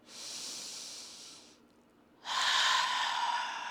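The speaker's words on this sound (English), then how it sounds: "Breathing in through the nose and out through the mouth, like you're fogging a mirror again" Ujjayi ocean breath drawn in through the nose and pushed out through the mouth during chair yoga: two long, hissing, breathy passes, the second louder and fuller after a short pause, with no talking.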